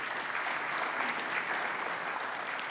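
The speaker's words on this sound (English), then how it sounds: "thanks for giving them a big round of applause" Steady applause from a conference audience, a dense wash of many hands clapping evenly throughout, moderately distant and without voices over it.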